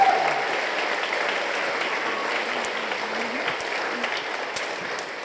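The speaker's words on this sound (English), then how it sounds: "can we give FOPA and FOM a big round of applause" An audience at a school instrumental concert and art show gives a sustained round of applause, steady and full-bodied throughout, with a faint voice briefly audible under the clapping.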